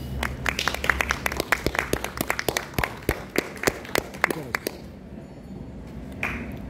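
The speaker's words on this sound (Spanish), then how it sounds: "les pido un fuerte aplauso para todos" A small audience at a book fair presentation claps in a burst of distinct, sharp individual claps that stop after about five seconds, followed by a quieter stretch with a faint noise.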